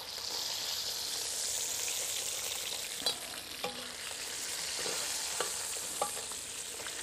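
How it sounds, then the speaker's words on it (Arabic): Fish lightly frying in a pan, a continuous soft sizzle and hiss with a few small clinks and taps of a utensil, close and even, with no talking. "سمكة هذه خفيفة الأمور طيبة، تشويحة بسيطة وعقب نشيلها."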